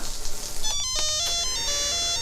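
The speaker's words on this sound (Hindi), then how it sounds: "नेहा, तुम्हारा फोन।" A mobile phone rings with a repeating electronic melody of bright tones over a steady background hum, fairly faint and with no talk over it.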